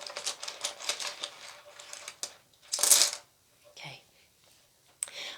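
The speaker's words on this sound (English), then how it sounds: "Let's draw another rune." A rune stone drawn from a set, with a run of soft clicking and rattling as the stones shift and knock together, then a few sharper isolated clicks, close and quiet.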